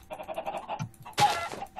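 Chickens wandering in Minecraft give a few short clucks and a burst of squawking, close and moderately loud, with no talking over them.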